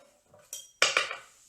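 Knife strokes slicing vegetables such as white onion on a cutting board while preparing Thai fried rice, heard as a soft tap followed by two sharp, close chopping impacts with a brief clatter, no talking.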